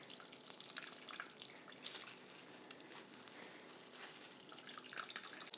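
Water squeezed by hand out of shredded zucchini, producing faint, close trickling and dripping that runs unevenly with small splashes.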